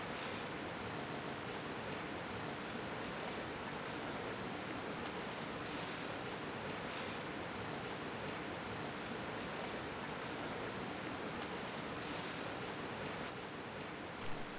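Waterfall and stream in Johnston Canyon, Banff, in winter, a constant broad rushing hiss of falling and flowing water that stays even and unbroken, moderately distant, with no voices.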